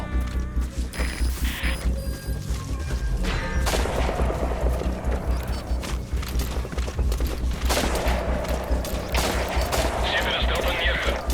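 Sustained gunfire in Metal Gear Solid V: The Phantom Pain, with continuous automatic bursts and scattered heavier blasts throughout, and a voice speaking over the combat.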